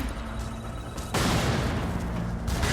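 A grenade bursts in the Tomb Raider: Legend video game, an abrupt loud boom followed by sustained crackling, rumbling noise that continues to the end, with no talking.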